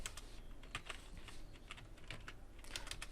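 A computer keyboard clicks in quick, irregular keystrokes while entering item names into an Excel spreadsheet. The typing is close and quiet, with no talking.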